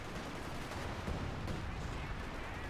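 Artillery fire rains down in a Company of Heroes 2 match between OKW and British forces, a steady dense rumble of distant booms and blasts at moderate loudness, with faint voices underneath.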